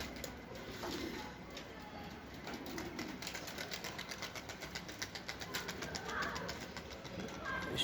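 A young Dumanlı pigeon is released to fly. Faint, quick rhythmic fluttering pulses build toward the middle over a soft background hum.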